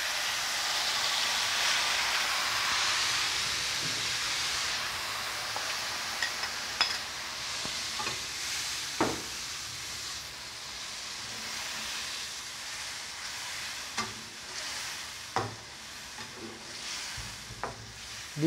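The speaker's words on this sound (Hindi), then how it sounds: "अब इसको हम फ्राई करेंगे, फ्लेम ऑन करेंगे हम और ये ऑयल डालेंगे 1/2 कप" Marinated beef pieces for Bihari boti fry in half a cup of hot oil in a pan, a continuous hiss that fades gradually, broken by sharp clinks and scrapes of stirring.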